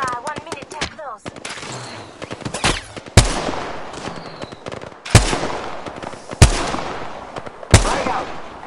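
Gunfire from the video game Apex Legends rattles in rapid bursts, several sharp loud shots punctuating a busy stretch of automatic fire, with a voice speaking over parts of it.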